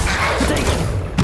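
A Confringo spell blast in the video game Hogwarts Legacy: one dense, roaring burst fills the whole short moment, with a brief sharper crack right at the end.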